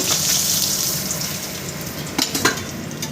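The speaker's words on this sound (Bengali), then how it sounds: "তাই অল্প করে ভেজে নিচ্ছি" Pabda fish sizzles steadily as it fries in oil in a pan, a continuous close crackle with a few light utensil taps near the end.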